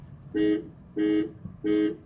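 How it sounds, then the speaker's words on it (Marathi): Horn of a 2025 Tata Tiago EV electric hatchback, sounded in three short, evenly spaced honks, each a steady, bright tone, loud and close. "अशा प्रकारे हॉर्न याच्यात प्रोव्हाइड करण्यात आलेला आहे"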